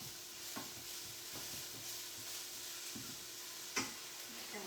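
Shallots and garlic sizzle steadily in a pan on the stove, a low continuous frying hiss with occasional clicks and utensil taps, one sharper knock near the end.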